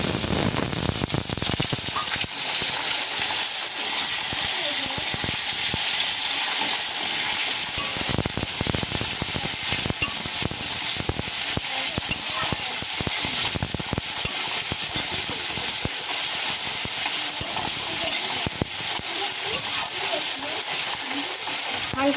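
Onions hit hot oil with whole cardamom and cinnamon and fry in a loud, steady sizzle that crackles continuously, with occasional stirring, for over twenty seconds in a home kitchen.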